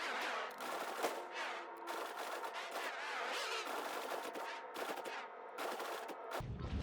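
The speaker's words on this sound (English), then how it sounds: "I'm gonna shoot at the ship again." Ship weapons firing at another ship in Star Citizen, heard as long bursts of rapid automatic fire broken by brief pauses, loud and up close.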